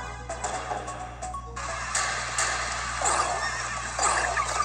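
Horses whinny and neigh in a 3DS video game battle, several calls rising over a constant low electronic hum, with light clip-clop and game effects in between.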